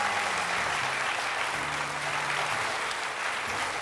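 A studio audience on a French TV game show claps loudly and steadily in a dense, continuous wash of applause, with a low musical tone humming underneath.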